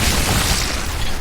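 Necromancer corpse explosions in Diablo III, rendered as a dense, continuous rumble of booming blasts that stays loud for the whole moment.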